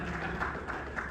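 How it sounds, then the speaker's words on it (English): A small group gives brief, dense clapping during a mammography imaging demonstration, with a voice faintly mixed in. "give her a clap"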